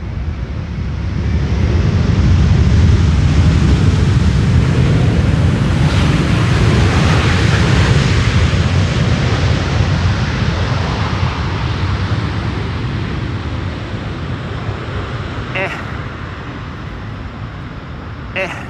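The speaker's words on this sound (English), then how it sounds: "You can spool up the reversers now" A broad, roaring rush from an Airbus A330neo airliner's engines in reverse thrust as it lands at Schiphol, building up over a couple of seconds and holding steady and loud for a long stretch before easing slightly.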